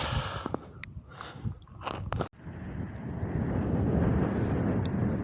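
Low, rumbling wind buffeting a microphone on a road climbing to a mountain pass in Argentina, steady and loud throughout with a brief dropout partway through; no voices.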